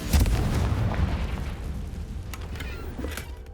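A Confringo blasting spell explodes in Hogwarts Legacy, one close, loud booming blast that rumbles and fades, with a couple of faint crackles trailing after.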